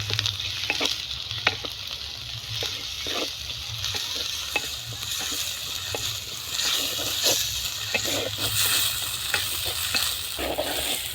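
Garlic and ginger paste fries with onions, steady loud sizzling in a pan, with frequent scraping stirs and small crackles throughout; no voices.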